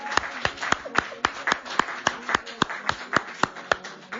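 A church congregation claps to acclaim Jesus, with sharp, even handclaps in a brisk steady rhythm, about four per second, sustained throughout with little else beneath.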